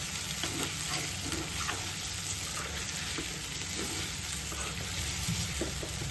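Chicken with garam masala fries and gets stirred in a frying pan, a dense continuous sizzle with occasional scraping stirs, close and steady, with no talking.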